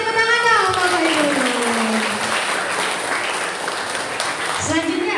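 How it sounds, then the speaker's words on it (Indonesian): Applause from an audience at an evening dhamma talk event, a steady wash of clapping throughout with a voice speaking over the start and another briefly near the end. "kita berikan tepuk tangan dong Bapak Ibu"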